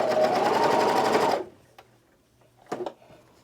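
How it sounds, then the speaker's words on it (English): A serger runs fast and loud along a seam on a classic tee for just over a second, then stops, followed by faint handling clicks and a short rustle. "Depending on your serger, it could sail over it or it could struggle."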